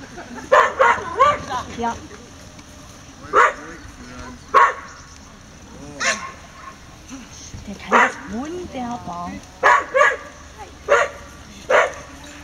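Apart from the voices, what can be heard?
dog whimpering and barking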